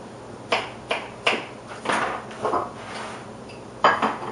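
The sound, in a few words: knife cutting red pepper into pieces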